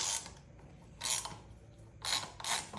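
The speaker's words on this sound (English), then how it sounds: "Now we're going to remove the two M8 bolts here using a 13mm socket" A ratchet with a 13mm socket works M8 headlight bolts on a motorcycle, making close, quiet bursts of rapid pawl clicking in three short strokes with pauses between them, and no one speaks.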